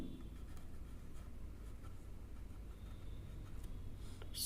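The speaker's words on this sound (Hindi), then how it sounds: "तो लिखेंगे मोहन" A pen moves across paper in a steady, faint, continuous scratch, close by but quiet, with no voice over it.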